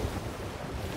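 Ocean waves and wind in the pirate sailing game Sea of Thieves during a building storm, a brief dense wash of surf and gusting noise with no voices.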